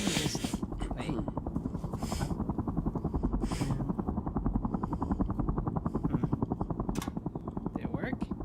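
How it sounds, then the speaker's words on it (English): Helicopter in the Henry Stickmin video game, a steady fast rotor chop pulsing throughout with game noises and a voice talking over it. "Obligatory Charles helicopter"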